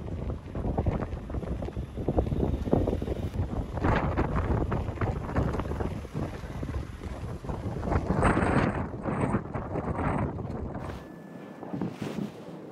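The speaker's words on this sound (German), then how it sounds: "Hier herrscht allerdings starker Sturm, deswegen hört man das Ganze." Strong storm wind in Amsterdam buffets the microphone in loud, rushing gusts, roaring continuously before easing off near the end.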